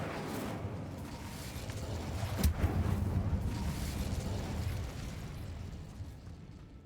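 An Incendio fire spell blast in Hogwarts Legacy: one sudden whooshing burst with a low rumbling tail that fades over a few seconds, over a quiet background with no talking.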